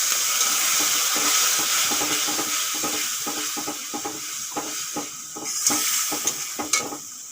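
Water goes into a vegetarian sweet potato curry masala cooking in a pan, raising a broad hiss and bubbling, followed by a run of close, uneven stirring clicks and scrapes against the pan.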